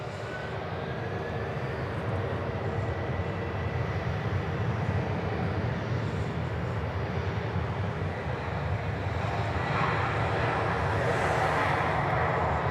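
Flight 636 at Dallas Fort Worth airport, heading for San Francisco, produces a sustained jet engine roar that holds steady at a distance, with a faint rising whine partway through.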